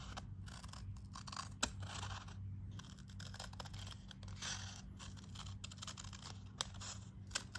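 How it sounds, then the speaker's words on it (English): Scissors snipping paper or cardstock while cutting out a circle, a series of faint, close, irregular crisp snips and scrapes. "When cutting a circle, I like to have one hand curve the paper or cardstock and the scissors are staying in the same spot."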